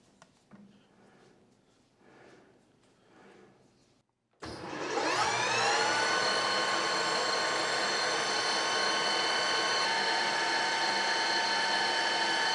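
After quiet room noise, a lathe spindle starts abruptly with its safety cover off and spins up to a loud, steady whine with a sustained mechanical hum.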